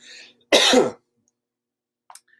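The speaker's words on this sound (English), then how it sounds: "Just a cough." A single short, harsh cough sounds up close, set between brief quiet moments and faint small noises.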